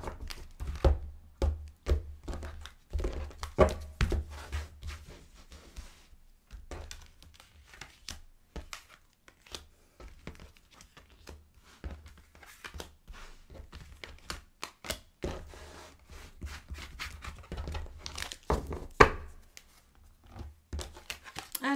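Oracle cards handled at a table during a five-card reading: repeated soft crinkling taps, slaps and shuffling flicks of the cards, close and fairly quiet, with no talk.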